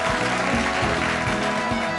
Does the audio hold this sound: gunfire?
no